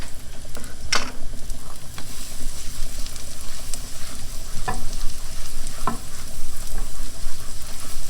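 Shallots and garlic frying in a pan, a constant close sizzle with occasional sharp clinks and scrapes of a spoon stirring against the pan.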